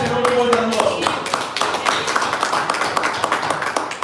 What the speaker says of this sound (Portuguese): Palmas ao Senhor